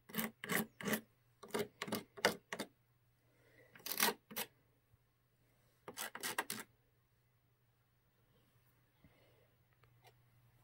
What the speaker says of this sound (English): I'm going to use a box knife for like a razor blade, and I'm just going to cut that off of there